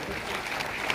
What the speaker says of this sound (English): A big round of applause for these Leos